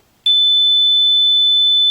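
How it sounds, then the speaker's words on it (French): Home alarm system going off as a door is opened: after a short silence a loud, steady high-pitched electronic tone starts and holds unbroken to the end. "si j'ouvre une porte, voyez-vous, j'ai un alarme qui se fait"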